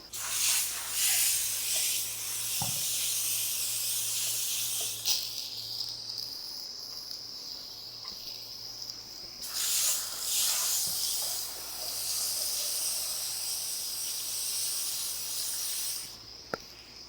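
Rinseless wash foam sprays from a foaming handle on a keg during a hybrid wash of a Ford Raptor, in long steady hissing bursts with short pauses between them and no talking.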